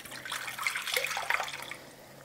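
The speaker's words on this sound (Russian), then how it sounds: "И наливаем туда 250 грамм воды." About 250 grams of water splashes and trickles into a bowl for a couple of seconds, fairly close and soft, with no talking.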